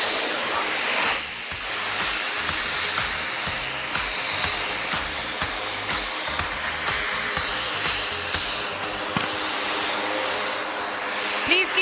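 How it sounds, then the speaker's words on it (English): An IJT jet trainer roars steadily overhead during an aerobatic display at the Aero India air show, a broad, distant jet noise with a commentator speaking over it. "The aircraft is now turning left to position for its next maneuver."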